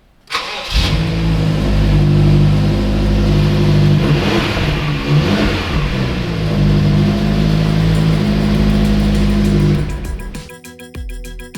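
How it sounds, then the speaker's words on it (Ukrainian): A BMW X5M engine starts with a sharp burst, then a deep exhaust roar that idles and surges loudly before cutting off. "Особливий кайф це звук випускної системи, коли X5M запускається."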